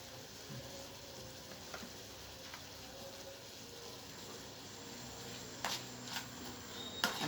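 Liver frying on a small spirit stove, a soft, steady sizzle with a few light clinks and scrapes near the end, and no one speaking.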